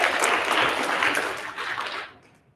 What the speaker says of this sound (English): We would also like to give a round of applause for all teachers,